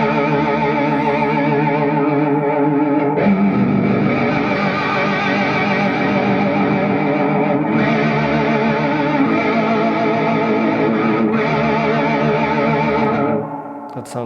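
Electric guitar played through a Positive Grid Spark amp with a vibrato effect, sustained chords wavering in pitch, loud and close, ringing alone before fading out at the end.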